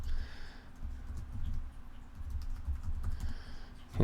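Rapid clicking of keys on a computer keyboard, steady bursts of typing close by with brief pauses, no voices.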